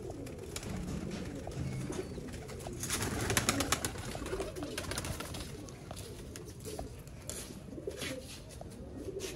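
Shermila pigeons coo steadily in a low, murmuring chorus, close by, with several overlapping birds and faint outdoor noise underneath.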